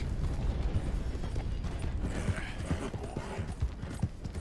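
Horse hooves clip-clop steadily in Red Dead Redemption, a continuous rhythmic trotting under dense in-game ambience, fairly close and even in level throughout.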